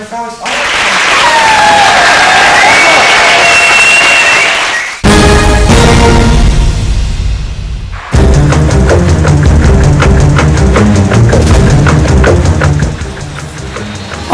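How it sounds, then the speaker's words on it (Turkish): Theatre audience giving a standing ovation after a play, loud sustained applause in several long bursts with brief cuts between, dense clapping filling the whole stretch. "Beğenilen oyun ve oyuncular izleyicilerce dakikalarca ayakta alkışlandı."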